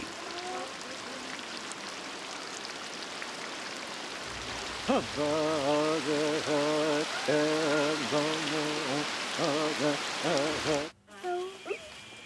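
Heavy rainy-season downpour in the Brazilian rainforest of Pará, a steady dense hiss of rain on foliage and ground throughout, with a voice or animal-like tonal calls rising over it in the second half.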